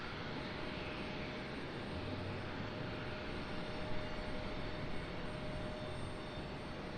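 A jet airliner at Raleigh Durham International Airport, heard at night as a steady, fairly faint broadband roar of engines that holds evenly throughout, with no voices over it.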